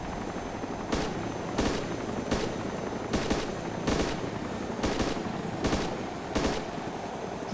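Gunfire aimed at a helicopter in the video game DayZ Epoch, single loud shots fired at a steady pace of roughly one every 0.7 seconds over the constant drone of the helicopter rotor.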